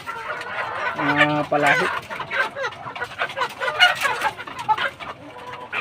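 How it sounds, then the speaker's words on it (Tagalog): Several chickens cluck and squawk close by in a busy, uneven chorus, with people talking under the birds. "dami ng manok dito"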